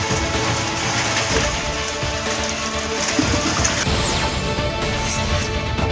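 Heavy rain mixed with hail lashes down in Vijayapura district, a dense, steady roar of drops and pellets pounding surfaces at close range, loud and unbroken for the whole stretch.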